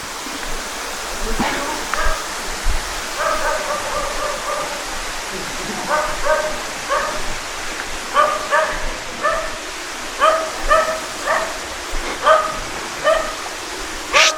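Several dogs bark repeatedly in short bursts over the steady rush of flowing water in the Philippines, moderately close, with a faint voice now and then.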